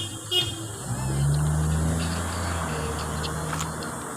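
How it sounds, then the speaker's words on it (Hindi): A vehicle drives past on a road and gives a steady, low horn honk lasting over a second, faint and at a distance, against a constant hum of traffic. "ये गाड़ी चल रही है।"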